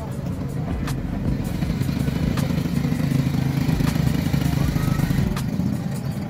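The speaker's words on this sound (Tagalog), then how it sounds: "Hindi pa na totally shutdown yung makina." A vehicle engine idling before a 4x4 trail ride at an outdoor event, a continuous loud low rumble with occasional clicks and clatter, and voices faintly mixed in.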